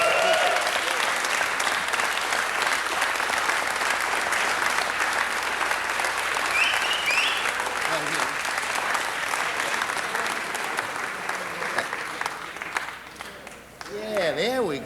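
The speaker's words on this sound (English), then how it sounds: "Let's give Christian another round of applause." Long, steady applause in a city council chamber for Christian, a full room clapping loudly and evenly, thinning near the end as a voice begins to speak.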